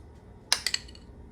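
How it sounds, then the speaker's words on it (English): A spoon stirs teriyaki sauce into a chicken and rice casserole, giving a few quick clinks and scrapes against the dish, close and brief, in an otherwise quiet kitchen. "So let's stir that in,"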